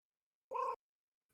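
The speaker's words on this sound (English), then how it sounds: "That's my cat." A pet cat gives a single short meow, fairly close and clear, then quiet with another faint sound starting at the very end.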